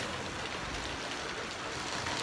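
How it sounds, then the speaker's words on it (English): Rain pours outside a truck being unloaded, a steady dense hiss that never lets up and has no voices over it. "Out here in this rain, you see it? See it coming down?"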